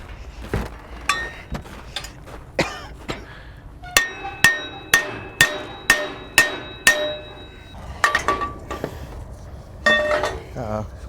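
A hammer strikes metal again and again, sharp ringing blows, the middle stretch a steady run of about eight evenly spaced hits, with scattered clinks around them.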